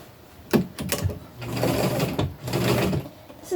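A sewing machine stitches a seam on an upcycled tunic in two close, steady runs separated by brief pauses and a few clunks of handling the fabric.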